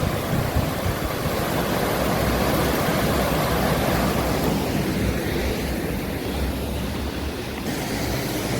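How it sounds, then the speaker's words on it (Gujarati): Fountain water falls and splashes into a pond at Uparkot Fort, Junagadh, continuously in a dense, steady rush, close and loud, with no voices. "અંદર ફવારો છે એનું પાણી એમાં જાય છે અને પછી આ તળાવમાં પડે છે"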